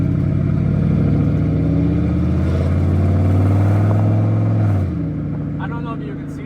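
A DIY turbocharged DOHC Ford F250 truck accelerating, a loud, close engine drone rising steadily in pitch, then easing off as the revs drop near the end, with some talk mixed in.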